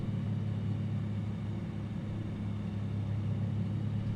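Savage Carbon Cub light aircraft engine in Microsoft Flight Simulator 2020, a steady low droning hum held at approach power during landing, even and unbroken, no voices.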